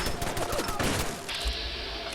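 Gunfire from turrets in Fallout 4, a dense burst of rapid shots with a sustained high hiss and crackle over roughly two seconds, loud and continuous.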